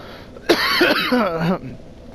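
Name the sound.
cough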